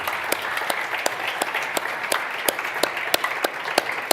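An audience at a hackathon opening day applauds, a steady wash of many hands clapping with several sharper individual claps standing out, heard close and alone without speech.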